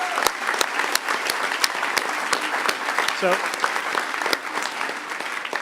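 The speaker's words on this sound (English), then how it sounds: "So if I get another round of applause for all the people who volunteered in those two." A conference audience at a closing ceremony applauds the volunteers with steady, sustained clapping throughout, loud and close, while a voice briefly speaks over it.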